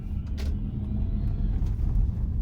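A 2014 Tesla Model S 85 electric car pulls away quietly, with a soft continuous rumble of tyre and road noise heard from inside the cabin.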